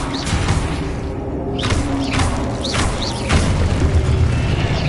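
Spell explosions and magical blasts from combat in the video game Hogwarts Legacy, a dense run of booms and whooshes layered over a busy game score, with repeated sharp bursts throughout.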